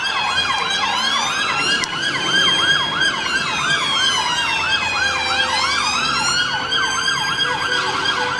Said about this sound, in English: the police are going into Whitehall now with their sirens on